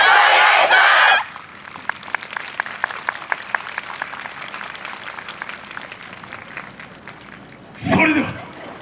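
An outdoor festival crowd watching a student yosakoi dance team gives a loud burst of cheering and clapping, then keeps a sharp, steady rhythmic hand-clap going, and a second shout rises near the end.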